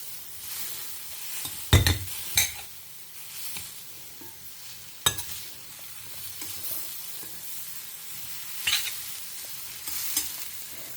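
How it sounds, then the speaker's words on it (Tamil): Raw banana (vazhakkai) is sautéed in a pan at home, with a continuous low sizzle and intermittent scraping and clinks from a spoon against the pan, some louder, some softer, and no speech. "காய் நல்லா வதங்கிடுத்து."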